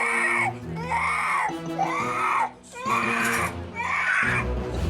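A young boy screams and wails during a meltdown, in loud, close, drawn-out cries with short breaths between them.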